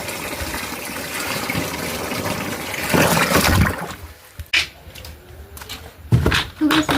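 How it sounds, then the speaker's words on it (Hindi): Water gushes steadily into a drum, a continuous rushing fill that cuts out partway, followed by clatters and knocks. "देखिए अब जो ड्राम है मैं इसको भर लूँगी"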